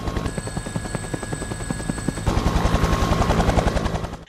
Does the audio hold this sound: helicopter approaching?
yes